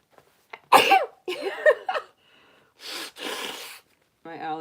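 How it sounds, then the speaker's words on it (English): A person with bad allergies sneezes close by, a sharp sudden burst with breathy gasps and nasal sounds before and after, while a voice talks briefly. "I think I got to sneeze."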